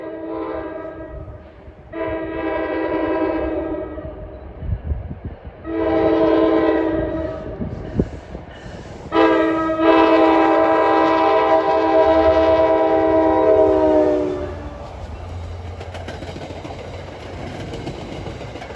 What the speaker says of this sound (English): This is 49 from Hoboken to Middletown, with Mr. Ben at the throttle.